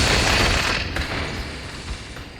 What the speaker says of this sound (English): The right trigger fires my needler, my SMG, and the left fires my needler